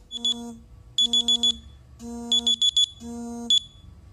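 Medication reminder alarm before an injection: a loud electronic beeping alarm sounding in repeated bursts of rapid high beeps roughly once a second, close and clear with no talking.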